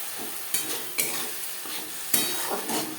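Onion-tomato masala with ginger and green chilli paste sizzles in a pan as water goes in and a utensil stirs it, with scraping knocks at irregular intervals over a constant frying hiss and no voices.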